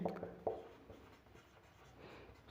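Pen or chalk writing out notes during a class lesson on metals and non-metals, heard as faint, close scratchy strokes in short bursts with quiet gaps between them.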